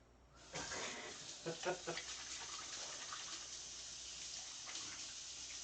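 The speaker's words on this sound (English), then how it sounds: "as soon as you hear the water running" Water running from a kitchen tap, a steady hissing stream that starts abruptly and continues to the end, with some clattering and faint background voices during cooking.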